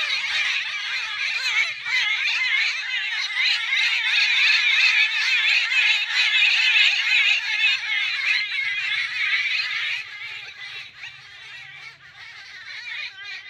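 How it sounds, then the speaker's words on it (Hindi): A dense chorus of bird chirps and twitters fills the scene continuously, bright and busy, easing slightly toward the end. "आप चिड़ियों की आवाज़ को सुन सकते हैं"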